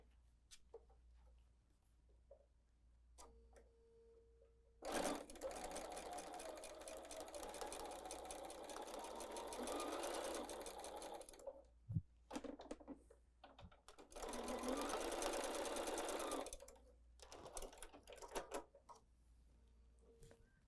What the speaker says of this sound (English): and pin, and let's go sew